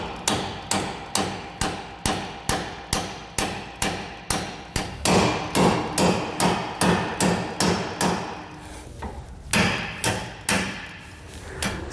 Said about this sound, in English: take a hammer and just beat it, and you'll feel it you'll feel the pin start to push through everything